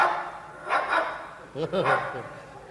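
A dog kept at home gives two short, fairly faint barks in quick succession amid a humorous spoken exchange.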